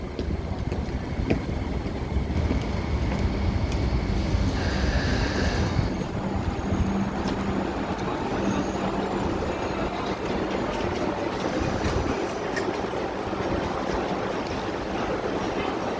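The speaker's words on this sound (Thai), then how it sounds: "เนี่ยนะคะคือรถรางนะคะ" A two-car tram rolls into a stop where people are waiting, a steady broad rumbling roar lasting throughout, with wind buffeting the microphone.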